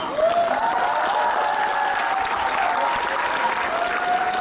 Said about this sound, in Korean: 큰 박수 쳐주세요.